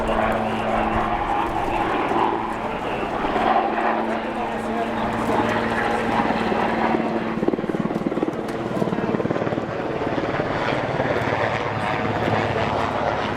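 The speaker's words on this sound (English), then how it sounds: "Helicopter Air 5, which is circling the area conducting surveillance" A police helicopter circling overhead, its steady rotor thrum droning continuously, with a voice talking over the engine noise throughout.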